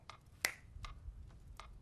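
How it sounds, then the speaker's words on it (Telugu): A single sharp finger snap cracks out close and clear in a quiet room, with a few fainter soft clicks and rustles spread around it. "ఇలా చిటికేస్తే"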